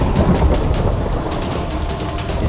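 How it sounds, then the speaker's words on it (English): A video game thunderstorm rolls on steadily, with dense broadband rain hiss and low rumbling thunder filling the whole stretch at a constant, fairly loud level. "It's storming."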